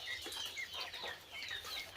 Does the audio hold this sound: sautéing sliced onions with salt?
no